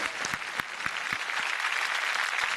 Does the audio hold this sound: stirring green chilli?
no